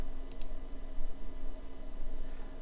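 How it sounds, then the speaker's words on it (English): Two quick mouse clicks near the start, fairly faint, over a steady low hum while working in Anvil Studio music software, marking a paste point on the selection bar. "We mark the paste point by clicking on the selection bar."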